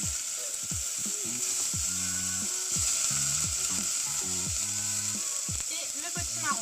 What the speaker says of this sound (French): Donc dès que c'est chaud, on met les oignons et le potimarron.